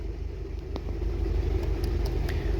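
A car's engine keeps idling after its newly fitted start-stop button is pressed, a steady close low rumble with a light rattle and faint ticks above it.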